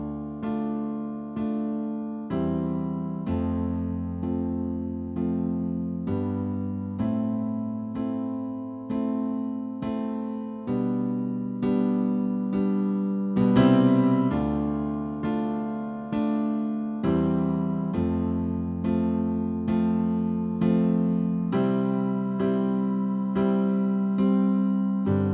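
Piano plays the bridge section of a song as steady, sustained chords with a deep bass, evenly paced and close, with no voices.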